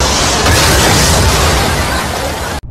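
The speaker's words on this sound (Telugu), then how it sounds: "మీ ఇంట్లో బాంబు వెళ్ళింది" A bomb explodes in a house: a loud, sustained roaring blast of broadband noise, rumbling heavily for over two seconds before cutting off abruptly.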